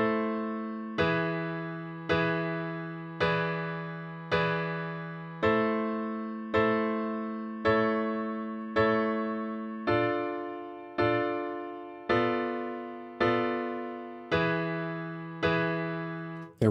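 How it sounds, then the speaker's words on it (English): Piano chords are struck one at a time in a slow, even rhythm, each ringing and fading before the next, about fifteen in all. "I've got just the chords now played on piano"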